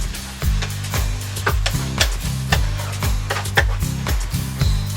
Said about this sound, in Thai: ใส่หอมซอยลงไปเลย สุกเร็วมากครับปิดไฟ